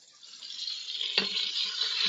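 Beef shank browning in a pan, a soft, steady sizzle that grows louder over time, with a faint clink and light scraping near the middle, close and alone without speech.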